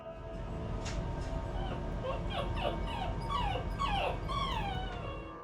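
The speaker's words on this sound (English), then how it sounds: "Even the dog is afraid." A frightened dog whimpers and whines in a string of high, wavering yips and cries over a steady background hiss, close and persistent throughout.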